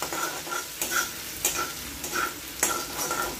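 Chopped ginger, garlic and green chilli sauté in hot oil with a constant sizzle, broken by regular scraping strokes of a spatula against the pan.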